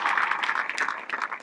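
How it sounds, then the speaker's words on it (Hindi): An audience gives a short round of applause, a bright patter of many hands that stays steady and then tapers slightly. "इसके लिए जोरदार ताली बजाओ यार"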